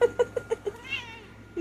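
A nearly seven-year-old cat gives a string of five or six short, clipped meows in quick succession, close and fairly loud, then a longer, softer mew trailing off before one more chirp starts.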